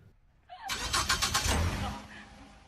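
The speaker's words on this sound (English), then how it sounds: "that's Cindy Grady starting up a new car that she got" A newly acquired car's engine cranks and catches after a short pause, a burst of rhythmic starter pulses settling into a steady idle rumble, fairly close and alone.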